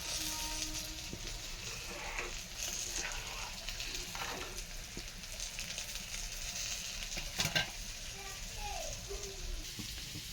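Masoor dal (red lentils) crackles and sizzles steadily in hot oil in a pan, a constant close frying hiss with a soft voice faintly underneath.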